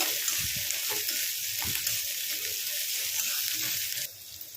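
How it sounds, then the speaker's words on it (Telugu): Chopped onions frying in hot oil with whole spices in a pan for a potato fry, a constant close sizzle broken by soft knocks and scrapes of stirring, no talk. "ఉల్లిపాయ ముక్కలు అయితే బాగా ఫ్రై చేసుకోండి."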